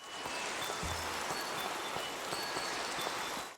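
Minecraft rain falls in a steady, dense hiss over a mountain village build, constant and even throughout, with faint soft patters and no voices.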